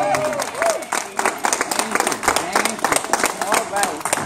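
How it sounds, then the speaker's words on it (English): A church congregation breaks into a burst of rhythmic hand clapping in praise, with lively voices carrying over the claps throughout. "let's give the Lord a hand clap of praise."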